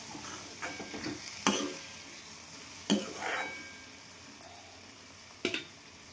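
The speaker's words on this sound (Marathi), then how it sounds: "छान शिजत आहे आपली भाजी।" Ridge gourd dry sabzi cooks quietly in a pan, a soft low sizzle broken by a few sharp spoon clinks and scrapes against the metal at irregular intervals.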